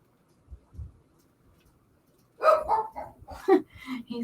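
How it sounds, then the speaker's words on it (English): A dog gives a few quick barks and yips at close range after a quiet start, the sounds coming in short bursts. "He's having a good time barking."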